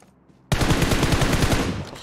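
Automatic gunfire in the PUBG Mobile video game: a loud, rapid burst of closely spaced shots that starts abruptly after a quiet moment and runs for about a second and a half.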